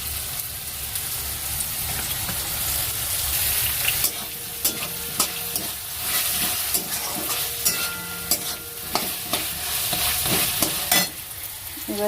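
Potatoes fry in a pan with ginger-garlic paste, giving a loud, continuous sizzle broken by repeated spatula scrapes and stirring knocks throughout, close by and with no talking.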